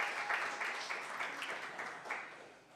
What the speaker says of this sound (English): Round of applause for Marcos Maidana